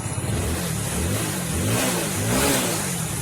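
Hero Splendor BS6 motorcycle engine, a bike with a misfiring fault, running close by and revving up with steady rising and falling throttle over a continuous mid-pitched engine drone, no talking.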